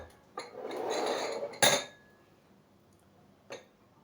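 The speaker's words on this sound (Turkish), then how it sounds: "Hemen böyle kaselerimi getiriyorum." Ceramic bowls are brought out and set down on a kitchen counter while a strawberry pudding cake is being made, giving a few sharp clinks and a clattering rustle, close and distinct.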